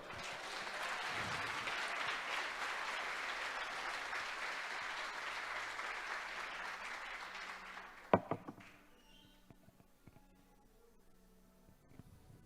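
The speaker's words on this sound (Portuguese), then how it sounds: "Você pode aplaudir o Senhor?" Sustained applause from a church congregation, broad and steady for about eight seconds before cutting off, followed by sparse scattered claps and small knocks in a quieter room.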